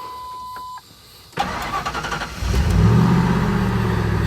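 A car engine starts after a battery cable upgrade to 1AWG cables: a short click, then a brief cranking chatter, then the engine catches and settles into a loud, steady idle close by.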